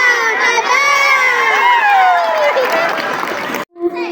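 A crowd of children cheers and shouts with some clapping at a school election campaign rally, loud and continuous, stopping abruptly near the end as a voice briefly starts.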